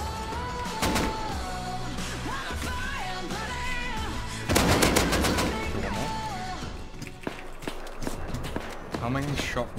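Rapid bursts of gunfire in Rust, cracking shots and volleys close and loud amid footsteps and movement, with a louder cluster of shots midway, while a person talks throughout.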